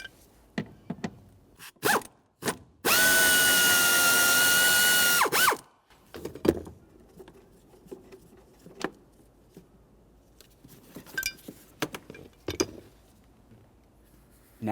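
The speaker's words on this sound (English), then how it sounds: "Continuing with that torque socket." A power tool drives a torque socket on mounting hardware while door weatherstrip seals are replaced on a 1999-2006 Chevrolet Silverado 1500: one sustained buzzing run lasting a couple of seconds, surrounded by scattered ratcheting clicks and handling knocks, close up.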